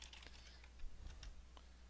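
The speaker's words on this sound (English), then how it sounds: "let's imagine I keep typing on this text." Rapid, irregular keystrokes on a computer keyboard while entering text into a form in LiveCycle / AEM Designer, a close run of light clicks alone over faint background hum.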